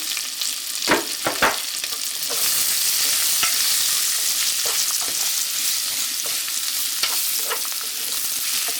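Onion frying in a pot for Jamaican curry tripe and beans, a steady broadband sizzle with a few sharp crackles and stirring scrapes near the start, close and fairly loud throughout.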